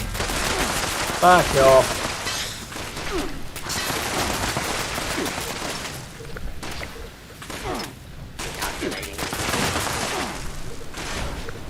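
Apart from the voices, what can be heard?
gunfire in Fallout 76 video game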